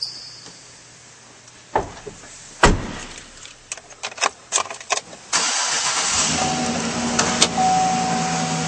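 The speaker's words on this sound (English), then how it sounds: "Now we'll go start up the Chevy." A 2012 Chevrolet Silverado 1500 pickup is started up: clicks and door or key sounds come first, then the starter cranks and the engine catches, settling into a steady, close idle.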